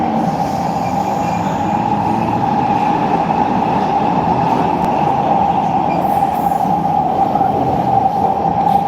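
A metro train arrives at a station in Europe in the evening, with a loud steady rumble of wheels on rail and a sustained high whine and squeal running through the whole stretch. No voices are heard.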